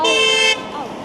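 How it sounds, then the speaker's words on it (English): At a red light on a city street, a car horn gives one loud, sustained toot that cuts off sharply after about half a second. Faint traffic continues behind it. "She's honking, go faster."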